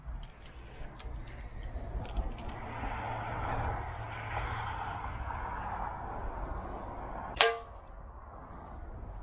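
A steel ball fired from a slingshot strikes a small can with one sharp metallic crack near the end, standing out loud and close against a quiet, hissy room background.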